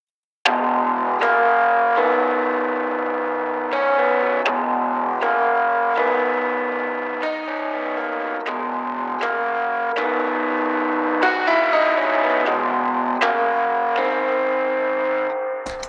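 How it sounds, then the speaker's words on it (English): Distorted electric guitar part run through a Sonible smart:comp 3 compressor, with chords struck in a steady rhythmic pattern, sustained and loud throughout with a chorus-like shimmer and no voices. "I like this guitar part because it gives us that distortion hit"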